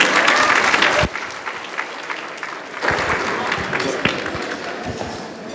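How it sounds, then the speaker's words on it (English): Enthusiastic audience applause fills the room at a medical association's annual gala as a comedian is welcomed onstage, a dense, loud clatter of many hands that briefly dips and then swells again, continuing throughout. "Everyone give a big round of applause."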